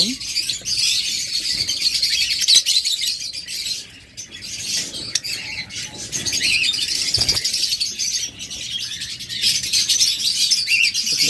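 Cage budgerigars, lovebirds and cockatiels, including a violet cobalt mutation pair, chirp and tweet continuously in bright overlapping bursts, with occasional wing flutters close by.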